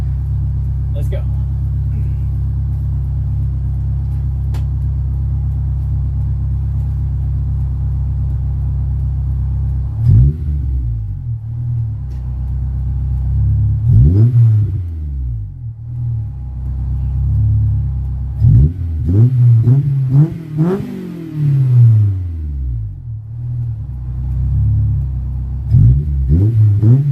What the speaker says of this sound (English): So this video will be with the exhaust on, warmed up.